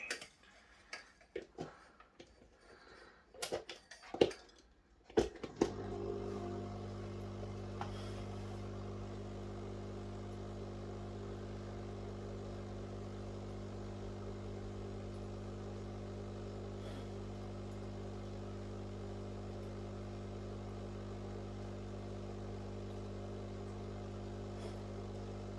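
A DIY deep water culture air pump starts after a few seconds of clattering handling noise, then settles into a steady low electric hum with a faint buzz that runs unbroken to the end.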